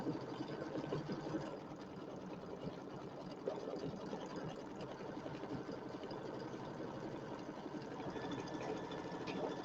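An embroidery machine stitches steadily with a continuous faint mechanical hum and rapid fine needle chatter, uniform throughout and heard alone with no talk.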